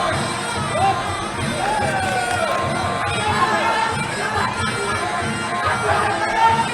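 A Muay Thai fighter's corner and the surrounding crowd scream and shout loudly during a live fight, a dense, continuous wall of cheering and yelling voices with rising whoops throughout.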